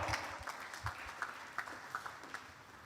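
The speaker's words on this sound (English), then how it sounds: "clap for her, clap for her, clap for her." An audience applauds at a church service, scattered claps building into a soft patter of hands at a moderate distance, with no one talking over it.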